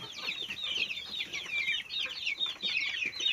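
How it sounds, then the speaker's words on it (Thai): A flock of young chickens, one to nearly two months old, keeps up dense, high-pitched chirping and clucking, with many overlapping birds close by and no pauses. "อันนี้เป็นไก่หนึ่งเดือน เกือบสองเดือนนะครับสองเดือนบางตัว"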